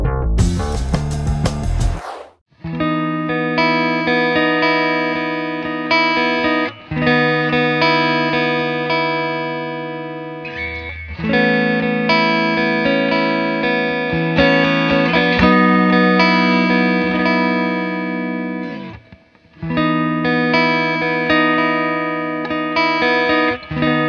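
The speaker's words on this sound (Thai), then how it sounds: "ก็เดี๋ยวจะลองให้ทั้งเสียงคลีนและเสียงแตกเลยนะครับผม" Electric guitar strung with Gallistrings steel strings (MS model) with three single-coil pickups, played in sustained chords and riffs, switching between clean and distorted tones through effects, loud and continuous after a brief opening strum.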